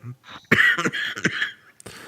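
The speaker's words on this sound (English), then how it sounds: "I'm coughing right now." A few harsh, close coughs in quick succession, with a throat-clearing rasp between them.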